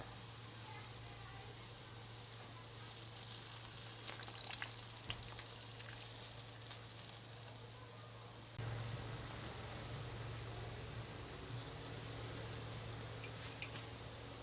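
A pan of escabeche sizzles and crackles softly as vinegar goes in, a faint steady frying hiss with a low hum under it and a brief surge partway through.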